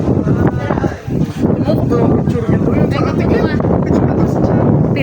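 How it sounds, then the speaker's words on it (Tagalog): Cold wind gusts steadily across the microphone outside a farmhouse, making a loud, rumbling, buffeting roar that barely lets up, with faint voices partly buried beneath it. "Hangin."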